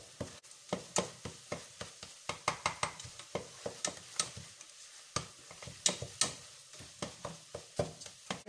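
Seasoning of ginger, cinnamon, garlic and thyme is stirred in a pot for a beef and vegetable stew, giving a steady run of light scraping clicks and taps, close and fairly quiet, with no talking.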